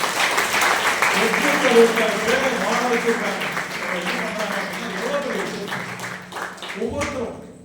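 Seminar audience applauds in a sustained round of clapping at moderate distance while a voice talks over it, the clapping trailing off toward the end.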